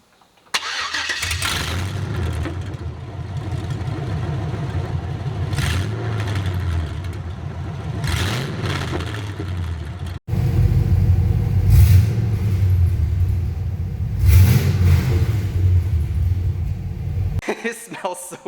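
LS 5.3 V8 with 3-inch headers in a G-body El Camino idling close by, a loud steady rumble that cuts out briefly, restarts even louder, then stops near the end.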